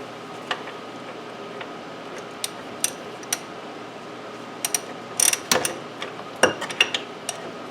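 Scattered sharp clicks of a socket wrench ratcheting on the front brakes of a 2007 Honda Accord, mostly brief single bursts with a quicker cluster near the end, close and fairly quiet over a faint steady room hum.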